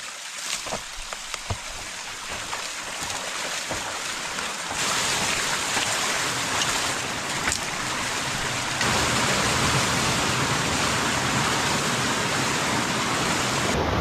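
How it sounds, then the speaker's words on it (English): Water rushes through a breached beaver dam, a steady broadband wash that grows louder and fuller partway through and again near the end, with scattered splashes early on and no talk. "We got a little bit of water flowing."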